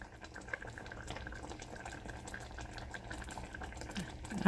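Grits boil in a covered pot on the stove, a steady low bubbling and simmering hiss that runs throughout, with a brief clatter at the very end.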